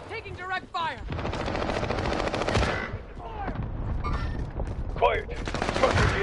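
Video game gunfire: rapid automatic bursts rattle loudly and nearly continuously, with brief gaps, while voices talk over the shooting.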